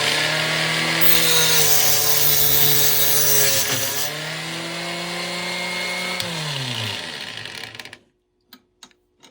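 Brass cartridge case for 25-20 single shot or 22 R2 Lovell being cut at the end with a saw, a loud continuous grinding, rasping cut lasting about eight seconds, pitch shifting as the blade works, then stopping abruptly with a few small clinks after.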